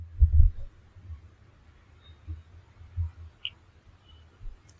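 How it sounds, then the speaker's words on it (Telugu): A heartbeat sound effect thuds in low, dull beats, the first strongest, then a few softer irregular thumps spread across a quiet background. "తన గుండె చప్పుడు తనకే వినిపించేంత గట్టిగా ఉంది"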